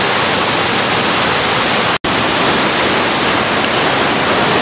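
The La Yunga waterfall roars as a dense, constant rush of falling water, loud and near, with a momentary cut in the sound partway through.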